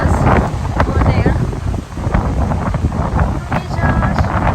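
Strong coastal wind buffets the microphone on the shore at San Simeon, California, a loud continuous roar with gusts, while voices talk over it throughout.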